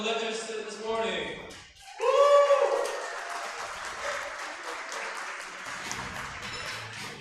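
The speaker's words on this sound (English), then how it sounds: "Can we make a round of applause for the lifters this morning?" Applause at a USAPL powerlifting meet, clapping swelling to a moderate crowd sound after a brief lull, with a voice over a PA system heard over the start and scattered chatter beneath.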